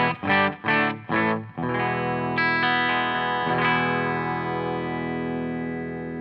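Split-coil Epiphone Jerry Cantrell Les Paul Custom Prophecy electric guitar: three quick choppy strums, then a ringing chord struck again twice and left to sustain and slowly fade, no voices.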